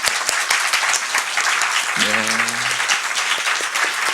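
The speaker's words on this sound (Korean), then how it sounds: "우리가 축복의 박수 한번 하겠습니다." Steady applause from a church congregation for a missionary fills the whole stretch, with a brief spoken word from a man partway through.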